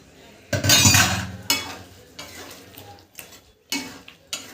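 Palak chicken being stirred in a pan, a few short scraping and clinking strokes of a spoon against metal separated by quiet gaps, with a faint sizzle beneath.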